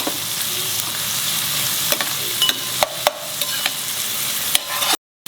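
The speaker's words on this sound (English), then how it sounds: "Fry this till it becomes brown." Onions frying for chicken curry, a steady bright sizzle with occasional sharp scrapes and clicks of stirring, ending in a sudden brief silence.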